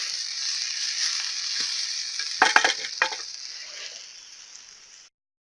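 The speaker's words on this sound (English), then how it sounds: "These primrose leaves, I'm just cooking them in the leftovers from the steak." Primrose leaves fry in leftover steak fat, a steady close sizzle with a few louder clatters of stirring partway through, then the hiss fades out.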